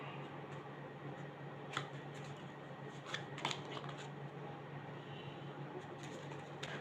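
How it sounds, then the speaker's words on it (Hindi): Tarot cards are shuffled and drawn in a quiet room, soft papery riffles and a few sharp flicks over a faint steady hum. "एक कार्ड और लेते हैं।"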